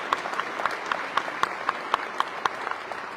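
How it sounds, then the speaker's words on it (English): Applause at an Arkansas press conference with the governor, members of Congress and military officials, honouring veterans and their spouses; rather sparse, moderately near clapping with distinct regular claps standing out, no talk over it. "Let's give them a round of applause."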